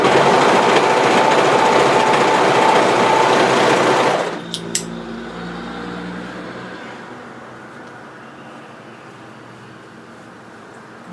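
A sewing machine runs a fast, steady, loud whir for about four seconds while stitching the shoulder seam of a wrap-front bodysuit, then stops with a couple of clicks and faint handling of fabric.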